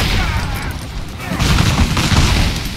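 Explosions and gunfire in the Rise of the Tomb Raider video game, a loud dense rumble of blasts and crackling shots that swells and continues throughout, with voices mixed in.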